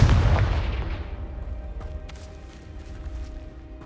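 Confringo fire spell from Hogwarts Legacy gameplay exploding: a loud booming blast that fades over a second or two, followed by faint rumbling and light clicking game sounds.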